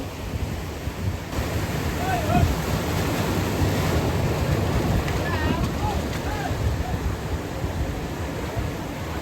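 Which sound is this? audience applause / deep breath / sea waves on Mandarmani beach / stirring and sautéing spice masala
sea waves on Mandarmani beach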